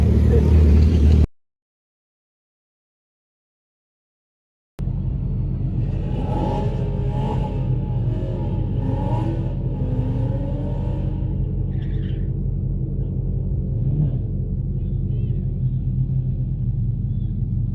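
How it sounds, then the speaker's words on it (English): A 2020 Dodge Challenger Hellcat makes a failed burnout attempt: a loud, steady low engine rumble held close for the whole stretch, with a few revving swells in the middle. A sharp cut to silence comes near the start. "That's a fail burnout."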